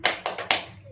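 Children clap the tepuk ikan rhythm with four sharp, close hand claps in a quick, slightly uneven pattern, the last one ringing out briefly.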